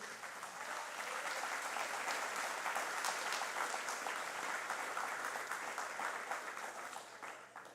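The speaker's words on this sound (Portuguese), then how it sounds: "pode aplaudir ao Senhor" A church congregation claps together at a Sunday service, a sustained, even wash of applause at moderate distance that swells slightly and then tapers off near the close.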